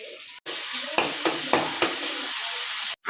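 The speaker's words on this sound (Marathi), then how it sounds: "कांदा लसूण पेस्ट आता आपण टाकूया" Onion, garlic and ginger paste sizzling steadily in a hot pan for pav bhaji, with a few short stirring scrapes breaking through the continuous frying hiss; no talking.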